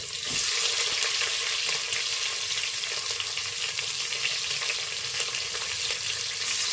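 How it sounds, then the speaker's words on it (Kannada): Mustard seeds, cumin, curry leaves and onion frying in hot oil for a toor bean sambar, giving a steady, close, dense sizzle that holds evenly throughout with faint stirring underneath. "ಈಗ ಒಂದ್ಸರಿ ನೀಟಾಗಿ ಮಿಕ್ಸ್ ಮಾಡ್ಕೊಳ್ಳಿ ಸ್ವಲ್ಪ ಫ್ರೈ ಆಗಲಿ"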